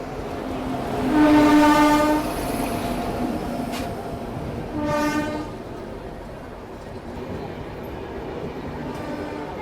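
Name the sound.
train arriving at station with horn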